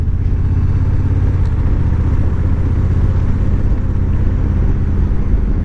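Honda NT1100 motorcycle cruising along the road in drive mode, a steady low engine rumble with continuous wind and road noise, even and unbroken throughout.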